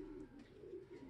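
A racing pigeon coos softly nearby, a brief, low, rolling murmur repeated in a couple of quick pulses, faint and alone.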